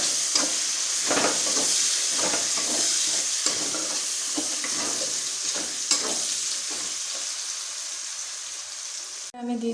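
Two medium-sized chopped onions fry in a pan for a wedding-style chicken curry, a steady close sizzle with frequent stirring scrapes throughout, no talk.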